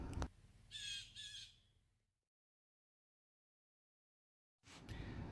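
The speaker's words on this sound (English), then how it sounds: "lovely birds calling me to sleep" Crows caw outdoors at sunset in the countryside during a bikepacking trip, giving two or three harsh calls at mid distance, followed by near silence and then another burst of noise.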